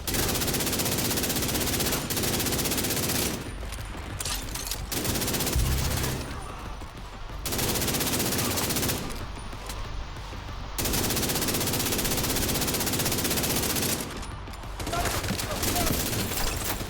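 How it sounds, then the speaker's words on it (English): Sustained machine gun fire in The Division 2, loud and close, rattling in long bursts broken by a few short pauses, with a voice talking underneath. "Oh, that's a machine gun."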